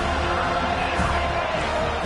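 Home crowd at a football game cheers in a steady, dense roar as the defense tries to get off the field on third down, loud and continuous without a break.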